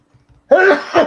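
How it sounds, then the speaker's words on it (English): A person lets out a quick burst of sneezes, sharp and close, clustered within about a second with a short quiet lead-in. "That's like a triple sneeze."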